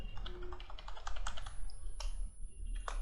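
Quick keystrokes on a computer keyboard, typed while setting up a Unity FPS character project, with a steady run of clicky taps close to the mic and a short pause before a final burst.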